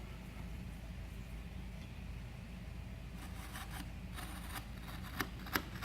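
Large scissors slice through fiberglass cloth in quiet, rough crunching and rasping snips that sharpen into a few brief clicks near the end.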